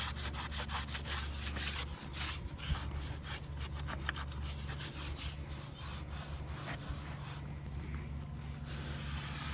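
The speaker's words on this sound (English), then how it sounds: "You can flip over your sponge and scrub it a little harder" A sponge is rubbed hard over a thin brick veneer set on block walls for a planter, giving rapid, rhythmic rasping strokes that repeat steadily and close throughout, with no voices.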